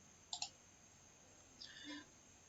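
Quiet software mouse clicks at a desk: a quick double click near the start, then a softer click-like sound a moment later, faint over low room noise with no talking.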